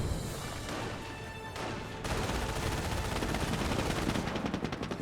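Garrisoned units in Company of Heroes fire steadily in a dense battle, with continuous machine-gun bursts and rifle fire over a constant rumble of combat. The firing is loud and sustained throughout, and no one talks.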